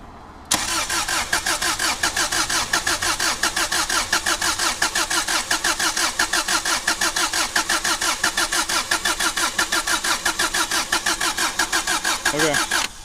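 After an engine swap, a Subaru Outback engine cranks and fires with fuel and spark connected and no coolant yet. A long, rapid, even chug of starter and engine continues for over ten seconds, loud and close.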